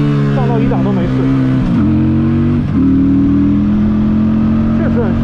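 A Benda Rock BD300 motorcycle engine hums steadily while riding, its pitch dropping and climbing through gear changes, loud and close with a rider's voice talking over it.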